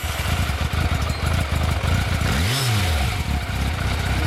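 A 1985 Yamaha FZR750 motorcycle revs close by, its engine rising sharply to a loud peak, then dropping back to a rough, steady idle, with no talking.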